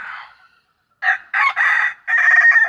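Bantam rooster crowing close by, a short call followed after a brief pause by a longer broken crow of several loud harsh segments.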